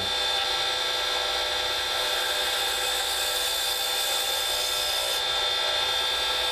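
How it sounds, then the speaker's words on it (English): A skew chisel cuts a driftwood pen blank spinning on a lathe, giving a steady, close, broadband hiss and rasp that holds unbroken throughout, with no talk. "To get the smoothest finish that I find is acceptable on my blanks, I use a skew chisel."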